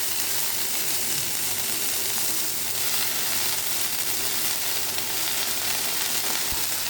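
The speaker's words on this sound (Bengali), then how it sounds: "এবার চলে যাচ্ছে এর উপরে ধনেপাতা।" Fresh coriander leaves fry in a pan over black cumin, giving a steady, close, even sizzle with a faint clicking texture and no talking.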